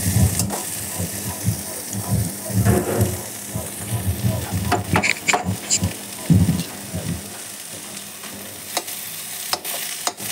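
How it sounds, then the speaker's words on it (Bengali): Boiled potatoes fry in a little oil in a pan, a continuous soft sizzle broken by irregular scraping and clinking as a spatula stirs and turns them, close by with no talking. "আলুগুলো একটু ভেজে নেব।"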